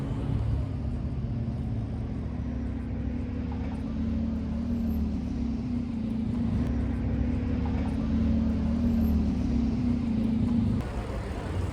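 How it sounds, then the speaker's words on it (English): Buses arriving for a conference shuttle, their engines giving a deep, steady rumble that holds for several seconds before easing off near the end, with no talk. "The buses are here,"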